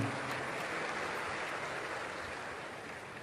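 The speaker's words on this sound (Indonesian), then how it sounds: "Ayo tepuk tangan." An audience at a speaking event claps with a steady, dense patter that fades slightly toward the end.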